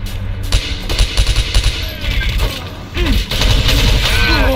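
Rapid automatic gunfire from the video game Enemy Territory: Quake Wars rattles loudly and continuously, with a dense barrage dominating the mix and a burst of louder fire near the end.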